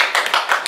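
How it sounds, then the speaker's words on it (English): A few quick claps of applause for a child who has just finished reading aloud in a classroom, short and close, a handful of sharp hand strikes. "Round of applause, round of applause."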